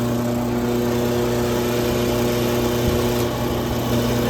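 A Continental drawer freezer that is not cooling runs loudly just after being plugged in, its compressor giving a steady, droning hum with a constant buzzing tone, close and unbroken.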